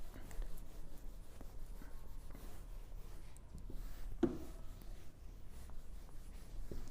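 Words being written on a board during a Hindi grammar lesson: a steady, soft scratching and rubbing stroke that runs throughout, with one sharper tap partway through, close and fairly quiet with no talking.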